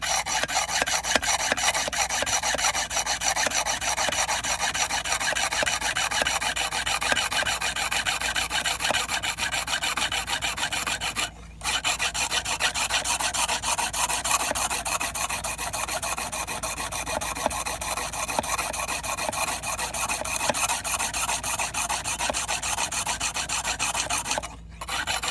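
A stainless knife blade strokes steadily across a natural sharpening stone, a continuous close gritty rasp that runs on for about twenty-five seconds with only two brief pauses.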